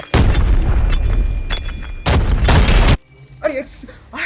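An explosion goes off in the shooter video game Arena Breakout. Two loud, sustained booming blasts with rumbling low ends are heard, then a quieter stretch with a brief voice.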